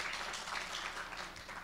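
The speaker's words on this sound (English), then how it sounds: "They are part, yeah, round of applause." Steady applause from a workshop audience, a dense continuous wash of many hands clapping at moderate distance, even in level throughout with no talk over it.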